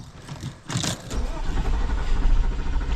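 A Porsche Cayenne just back from repair cranks with a short whirring burst, then catches and settles into a steady, close engine idle, alongside faint background voice.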